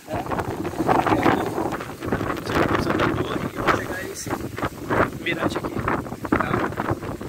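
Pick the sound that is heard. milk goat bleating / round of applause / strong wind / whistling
strong wind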